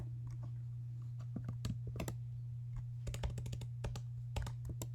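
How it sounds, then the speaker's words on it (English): Keys on a computer keyboard are typed on in bursts of close, crisp clicks over a steady low electrical hum, with no one talking. "You could type in"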